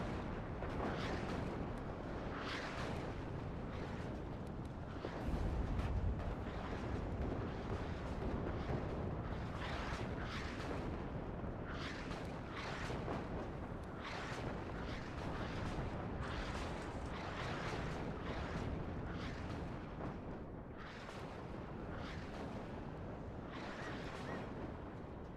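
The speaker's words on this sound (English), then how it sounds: "Artillery flying around." Artillery fire in the WARNO real-time strategy game: a dense, continuous barrage of booming impacts and rumbling explosions, loud and steady throughout with no talk.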